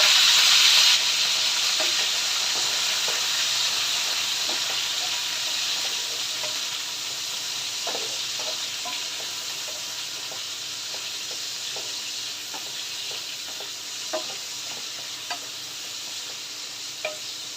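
Chicken liver sizzling and frying in a hot pan, a steady loud hiss with scattered pops and occasional stirring clicks throughout, no voices.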